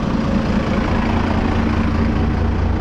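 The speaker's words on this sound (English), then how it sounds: "This the exhaust is vibrating off of something," An early-chassis crew cab truck fitted with a swapped 12-valve engine idles loudly and steadily at close range, a dense low rumble with a droning buzz from its exhaust vibrating against something loose.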